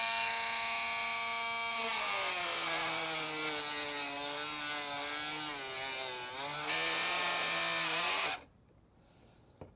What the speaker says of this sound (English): this is an old Dremel drill, so it's noisy.